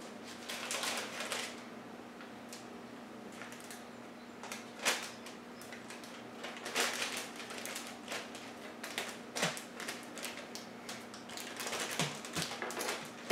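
A knife cuts a banana into smaller pieces on a board, producing soft, irregular taps and scrapes that are faint and close, with no voices.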